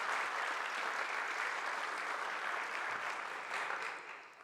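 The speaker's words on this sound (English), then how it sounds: "Let's give our young people a round of applause." An audience at Tacoma's State of the City event applauds young people in a steady, dense wash of clapping that tapers off at the end.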